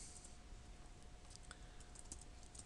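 Commands being typed on a computer keyboard while configuring a network switch: quick, light, fairly close key clicks in an irregular run over a faint steady hum.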